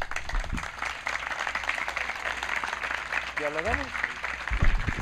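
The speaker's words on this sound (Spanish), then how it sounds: "fuerte el aplauso para nuestro ponente Paco Ignacio Taibo II" Dense, sustained clapping from a large crowd at a talk fills the room, with a voice speaking briefly in Spanish partway through.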